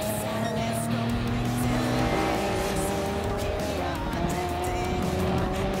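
A Gr.1 race car with a damaged engine in Gran Turismo Sport drones loud and steady at Circuit de la Sarthe, its engine pitch shifting slightly, with tire noise layered over it.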